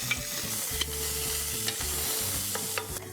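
Green chilies and ginger garlic paste stirred in a pot of hot oil, a steady close sizzle with a low rhythmic scraping of the spoon and a few sharp clicks against the pot, no voices.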